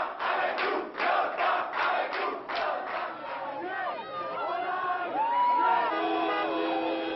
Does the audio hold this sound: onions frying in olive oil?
no